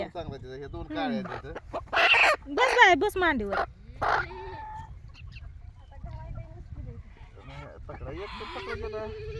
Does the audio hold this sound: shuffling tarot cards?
no